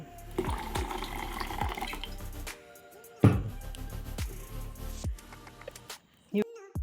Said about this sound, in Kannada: ಇದಕ್ಕೆ ನಾನು ಸ್ವಲ್ಪ ನೀರನ್ನು ಸೇರಿಸ್ತಾ ಇದ್ದೀನಿ